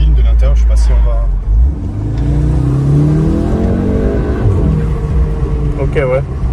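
A tuned Volkswagen Golf 7R engine, 360 hp, revs up and down in normal mode, its pitch climbing and falling, heard from inside the car with a voice briefly audible.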